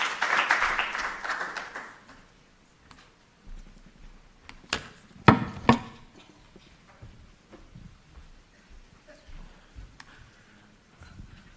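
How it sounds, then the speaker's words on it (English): Brief applause from a university audience for a professor taking the stage, a short burst of clapping that dies away quickly, followed by scattered knocks and handling sounds in a quiet hall. "please give a wonderful round of applause to Professor Michael Tungatwa"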